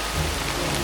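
Steady hiss of rain beginning to fall in the Amazon rainforest, a dense, even wash of drops heard close and fairly loud for a brief moment.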